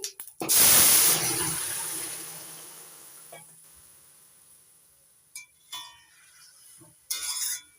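Black mustard seeds hit hot oil with dried red chillies in a pan, giving a loud burst of hissing sizzle that fades to a low crackle, followed by a few clinks of a lid or utensil.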